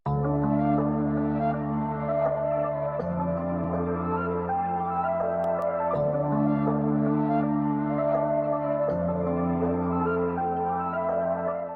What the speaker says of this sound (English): So with the flute, the whole thing sounds like this.